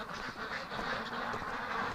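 Ducks quacking at a winter barn, a faint, busy cluster of overlapping calls heard steadily through the short stretch with no voices.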